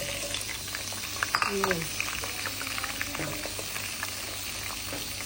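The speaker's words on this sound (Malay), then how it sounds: "Kita akan tumiskan, ya, bahan-bahan" Potato, onion and curry leaves sautéing in oil in a home kitchen, a steady close sizzle and crackle with a few utensil knocks, under a brief spoken word.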